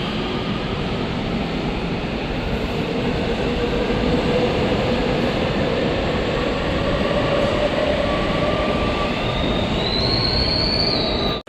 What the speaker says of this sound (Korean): 저를 수서역까지 무사히 데려다 준 307편성 열차 정말 감사해요